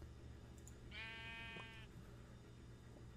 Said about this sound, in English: Shut up, sheep. I'm trying to talk.